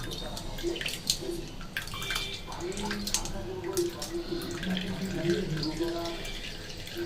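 Water is pressed out of washed food by hand in a kitchen, giving a soft continuous trickle and splash with scattered drips, close by, while a voice speaks intermittently.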